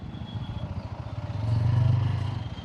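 A 2026 TVS Apache RTR 160 4V, a 160cc motorcycle, runs close and steady in a brief stretch, its engine note throbbing in a quick even pulse and rising slightly in loudness partway through.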